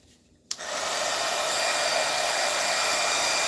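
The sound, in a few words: heater blowing hot air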